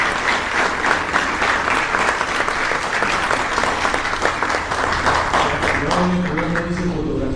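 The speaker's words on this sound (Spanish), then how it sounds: "Aplausos para el maestro, grandes aplausos para el doctor Jorge Rendón Vázquez." Sustained audience applause at a Peruvian ceremony honouring Dr. Jorge Rendón Vázquez as emeritus lawyer, dense and steady throughout, with a few voices and a faint tone rising near the end.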